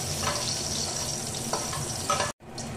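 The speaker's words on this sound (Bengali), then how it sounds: "এবার আমি ওই তেলের মধ্যে দিয়ে দিচ্ছি এলাচ আর দারচিনি ফোড়নে।" Cardamom and cinnamon sizzle in hot oil as whole spices are tempered, a close, steady crackling hiss with a few stirring scrapes. No one speaks, and it cuts off abruptly near the end.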